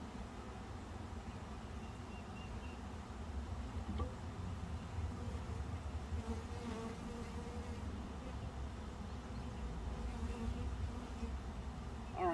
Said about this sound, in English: I don't think you guys want to sit here and just watch us watch the bees.